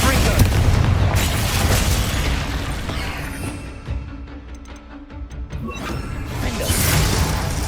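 Repeated fiery blasts from the Confringo spell in Hogwarts Legacy, a dense run of booming bursts with crackling debris, loud and close, easing briefly midway before building again.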